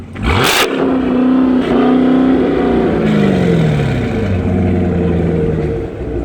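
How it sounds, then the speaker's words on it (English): A loud, close supercharged V6 engine of about 287 horsepower revving up and settling, its pitch rising and falling through several throttle blips with a throaty growl. "We about to hear this supercharged V6 rev up."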